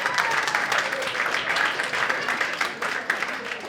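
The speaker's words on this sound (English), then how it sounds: "A round of applause, clap your hands if you have never been in an orgy before." A studio comedy audience claps hands in steady dense applause, loud and close, with scattered voices mixed in underneath.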